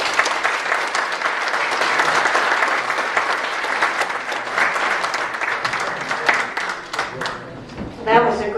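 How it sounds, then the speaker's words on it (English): An audience at a state senate candidates' debate forum in Dover, Delaware, gives a sustained round of applause, dense clapping that fades out as a voice starts speaking at the end. "So let's give them all a nice round of applause."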